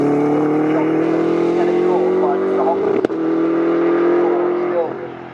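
GT race cars including a Lamborghini at the Snetterton circuit during a British GT Championship race roar past with a loud sustained engine drone, as a commentator talks over it.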